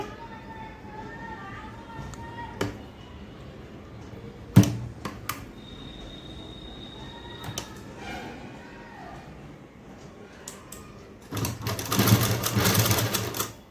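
A sewing machine stitching lace onto a garment gives a short, rapid mechanical whirring burst near the end, after a quieter stretch of talking and scattered handling clicks.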